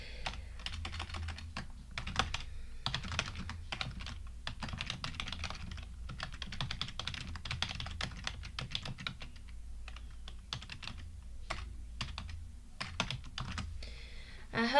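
Someone typing on a computer keyboard, a dense run of quick close key clicks with irregular bursts and brief pauses, steady and unaccompanied by speech.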